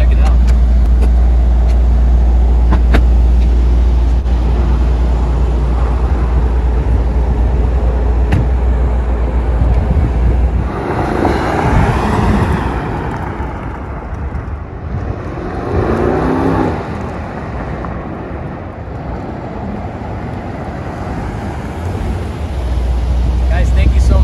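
A 2020 Mercedes-Benz AMG GT63 S four-door coupe drives past. Steady loud engine and road rumble build, then ease into a quieter stretch before the engine swells again near the end. No talk is heard.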